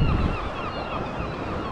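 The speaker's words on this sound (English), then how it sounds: "Starting to get caught out by one of these waves." A continuous roar of ocean surf breaking on the shore at Laxey, Isle of Man, with wind buffeting the microphone, waves washing steadily close by.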